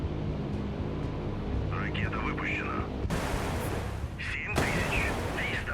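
In the naval video game Sea Power, a Slava cruiser fires its weapons with repeated booming shots and roaring launches over a dense rumbling background, while a voice talks intermittently over the battle noise.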